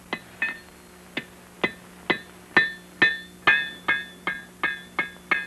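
Hammer forging iron in an 18th-century gun shop. A steady series of about a dozen ringing metallic blows lands roughly every half second, each strike clear and close with a short decaying ring.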